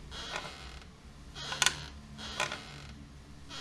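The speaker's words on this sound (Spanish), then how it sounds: "escucho la mecedora." Wooden rocking chair in a quiet room at night, giving a few slow, faint creaks spaced about a second apart over a low background hush.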